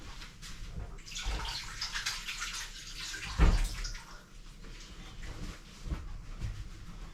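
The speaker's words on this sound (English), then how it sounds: "I've got to wash my hands." Hands being washed under a running kitchen tap: a steady, close rush of water with one louder splash midway and a few smaller ones, continuous and without talk.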